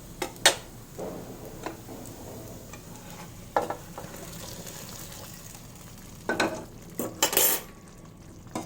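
Soya chaap curry being stirred in a pan, a spoon scraping and clinking against metal in scattered bursts over a low background sizzle, close and moderately loud with no talking.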